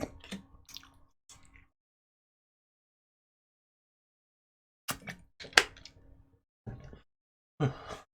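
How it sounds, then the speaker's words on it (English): A person drinks water in short bursts of wet swallowing and gulping with a small gasp, close and fairly quiet, separated by a long silent pause. "Just gonna drink some water because I think I need to."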